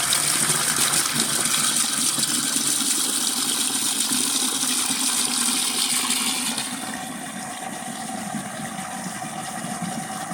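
Water gushes steadily into a chicken watering bucket, a loud continuous rushing fill that eases to a lighter flow partway through, close and without talk.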